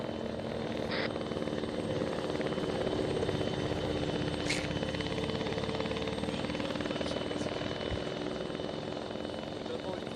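Helicopter rotor and engine drone steadily throughout in an ARMA III co-op military mission, loud and continuous with game background noise.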